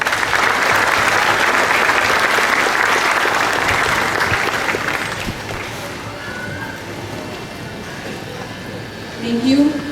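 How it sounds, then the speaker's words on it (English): A commencement ceremony audience breaks into loud, sustained applause that fills the hall for about five seconds, then thins and fades into a quieter murmur with some voices near the end. "We will give them another round of applause."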